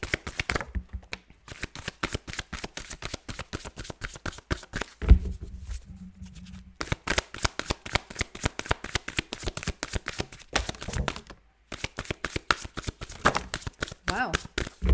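Tarot cards shuffled in repeated rapid riffling bursts with brief pauses between, close and crisp, at a quiet whisper-level setting.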